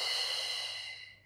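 A single long exhaled breath during a Pilates hamstring stretch, a soft airy whoosh that fades out over about a second, close and unaccompanied.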